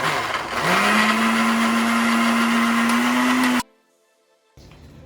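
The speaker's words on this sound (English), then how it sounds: "we're gonna go ahead and blend the lighter herbs first" A high-wattage food processor whirs loudly and steadily as it chops fresh herbs with garlic and onion, its motor pitch rising and holding for several seconds before cutting off abruptly into near silence.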